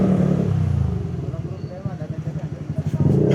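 Riding pillion on a motorcycle at a charity group ride: a close, rumbling engine throbs in rhythmic pulses as it revs and runs, with wind and road noise throughout.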